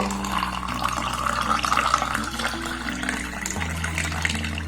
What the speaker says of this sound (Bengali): এবার এখানে আমি জল দিয়ে দেব।